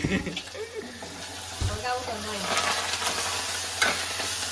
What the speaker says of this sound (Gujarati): આ તો વઘાર થતો લાગે એનો સરસ